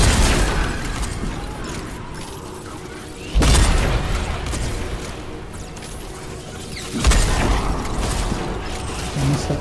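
Third Rail sniper rifle firing in Fortnite Save the World: two heavy, booming shots a few seconds apart, each a sharp loud crack with a ringing tail, over steady in-game background noise.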